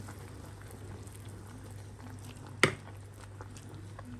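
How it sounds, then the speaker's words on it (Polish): A pot of leek soup in broth bubbles softly at a steady simmer, with one sharp clink partway through. "To się pięknie gotuje."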